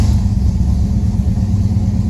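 A cold 1973 Pontiac Ventura engine runs steadily near the listener, a loud continuous low rumble with no clear start but an even idle throughout.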